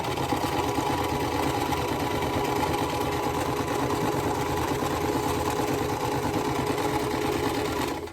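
Sewing machine running continuously while chain stitching quilt pieces, a steady fast mechanical whir with a rapid needle rhythm throughout, close and fairly loud with no talking.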